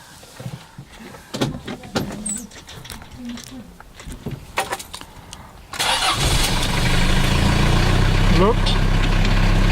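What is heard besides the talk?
Mahindra Rocsta R2 diesel engine starting and idling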